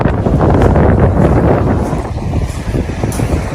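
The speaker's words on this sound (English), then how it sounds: "As you can see, a bit blowy," Strong, steady wind buffets the microphone on an open stretch of Yarmouth North Beach in the UK, a continuous low roar with gusts that rise and fall and no speech heard.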